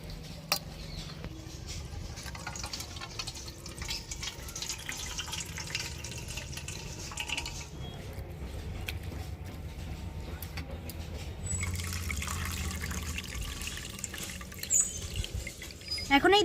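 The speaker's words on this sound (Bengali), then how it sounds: "এবার আমি এই চিড়েটাকে জল পাল্টে পাল্টে 3-4 বার একটু ধুয়ে নেব। আমি এর মধ্যেই জল দিয়ে ধুয়ে নিচ্ছি।" Flattened rice (chira) being washed by hand in a bowl of water, soft sloshing and dripping splashes throughout, with someone talking over it.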